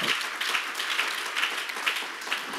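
Congregation applause during a church sermon at a pastors' seminar, a steady wash of clapping with soft rhythmic surges, fairly close and moderately loud, with no voices over it.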